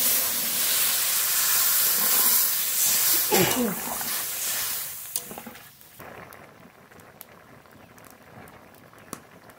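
Water poured into a hot pan of mixed spices for a Bengali vegetable chorchori erupts in a loud, broad sizzling hiss that gradually fades to softer bubbling and occasional pops, close up, without speech.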